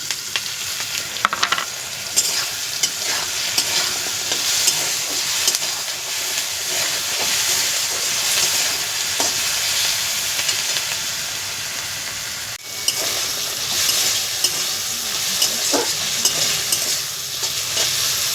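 Small crabs coated with salt, turmeric and chilli powder fry in a pan, giving a loud, continuous sizzle with steamy hiss. Occasional spatters and clinks break the sizzle, with one brief dip partway through.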